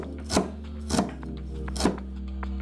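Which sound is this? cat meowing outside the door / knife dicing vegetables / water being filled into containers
knife dicing vegetables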